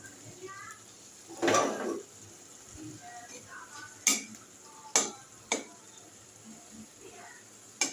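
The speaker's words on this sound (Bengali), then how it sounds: "মশলাটা আর একটু সাতলাবো।" Spice paste with tomato is sautéed in a pan with a faint sizzle, while a spatula scrapes once and taps sharply against the metal a few times at scattered moments.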